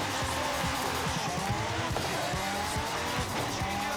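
A car races in Forza Horizon 5 with a steady engine roar, tires squealing and skidding through turns, continuous and loud with no voices over it.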